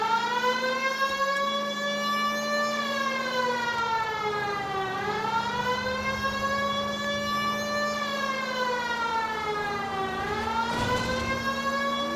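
Police car siren from the L.A. Noire video game wails continuously and loud, sweeping slowly up and down in long cycles over a steady engine drone, with no talking.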